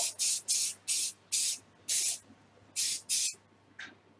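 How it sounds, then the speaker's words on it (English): Short bursts from an aerosol spray can weathering a Type 40 scale model, seven or eight quick hissing puffs in a loose rhythm, close and fairly loud, with brief quiet gaps between. "when you're spraying stuff up"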